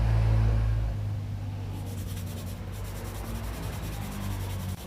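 Sandpaper of 180 grit rubbing dry over cured epoxy resin, a steady close scratchy hiss that holds continuously at an even level with a low hum beneath, with no talking.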